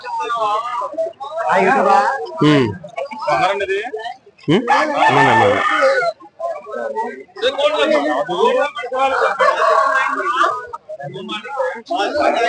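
Roosters crow at a busy weekly tribal market in the hills, their calls mixed into steady crowd chatter and nearby voices talking throughout.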